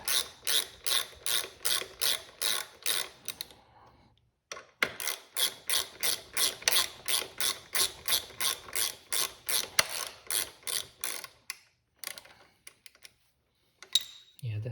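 A ratchet loosening a 6mm Allen head bolt held with Loctite on a CRF300L Rally rear master cylinder cage, giving long runs of rapid, evenly spaced close clicks with brief pauses between strokes.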